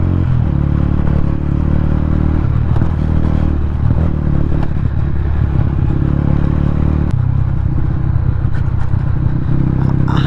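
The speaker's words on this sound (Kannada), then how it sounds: "ಇಲ್ಲಿಂದ ಆಫ್ ರೋಡಿಂಗ್ ಬೈಕಲ್ಲಿ ಹೋಗ್ಬೋದು." Motorcycle riding off-road up a hill trail near a temple, its engine droning loud and steady throughout, with clattering and scraping from the rough ground.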